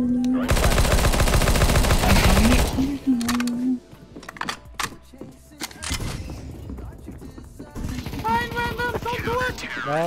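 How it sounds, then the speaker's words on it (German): Rapid bursts of gunfire from a video game shooter, loud and dense for the first few seconds, then sparser shots and clicks with gamers talking over the match. "Irgendwie wird Kevin die ganze Zeit angeschossen."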